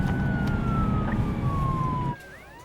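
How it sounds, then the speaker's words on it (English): Emergency vehicle siren, a police response in a crime drama, heard as a clear wailing tone that slowly drops in pitch over rumbling traffic noise before the scene abruptly goes quiet. "I can hear the siren, Marion."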